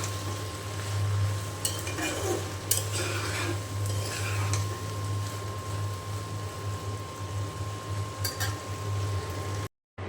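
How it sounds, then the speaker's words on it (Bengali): Okra frying in a pan on a stove with turmeric, salt, green chilli and onion, a steady soft sizzle with a few clinks and stirring scrapes of utensil against pan, close and alone, no talking. "তো আমি ঢেঁড়স ভাজিটা যে চুলায় দিয়ে দিয়েছি অল্প পরিমাণ হলুদের গুঁড়া আর স্বাদ মতো লবণ আর কাঁচামরিচ, পেঁয়াজ।"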